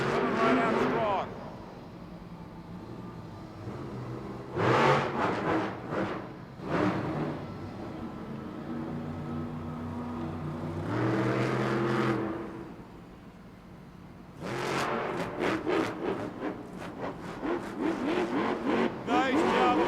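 The Captain's Curse monster truck at a Monster Jam arena show, its engine roaring and revving in repeated loud bursts with lulls between, under an excited commentator and crowd noise.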